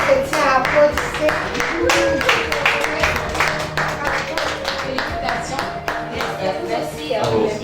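A church congregation at a French Christian quiz game claps in uneven, scattered bursts, with children's voices and chatter mixed through the steady patter.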